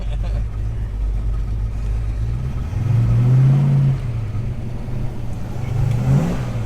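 An R-code Ford Mustang engine rising in a deep rev from inside the car, a low rumble swelling loud mid-way before easing off, then climbing again briefly.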